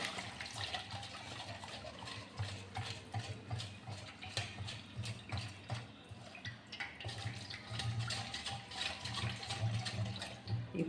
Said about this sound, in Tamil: இந்த 1 டம்ளரு மாவுக்கு இதால் 1 டம்ளர் தண்ணி ஊற்றிக்கலாம்.